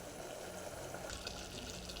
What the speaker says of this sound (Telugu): మనకు కావలసినంత వాటర్ వేసుకున్నామండి.